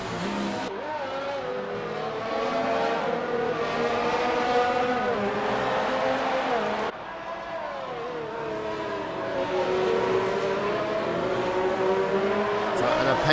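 Racing cars, including a Ferrari and an Alfa Romeo, roar through an F1 video game race at the Russian circuit with steady engine drone and shifting revs throughout, a brief dip midway, under commentary talk.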